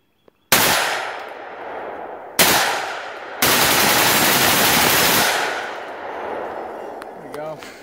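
A Ruger AR556 rifle bump fired with a slide fire stock at a steel target outdoors, two loud rapid bursts then a longer sustained burst, each roaring close with a ringing tail, followed by quiet.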